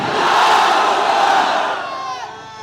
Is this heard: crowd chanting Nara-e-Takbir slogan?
yes